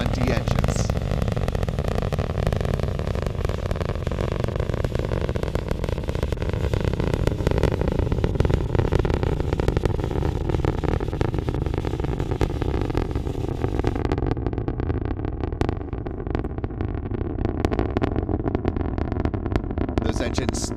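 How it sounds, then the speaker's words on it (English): A SpaceX rocket's nine Merlin 1D engines roar at a crewed launch to the space station, a loud, continuous, rumbling thunder that holds steady for the full stretch without a break. "Let's listen to the roar of those 9 Merlin 1D engines."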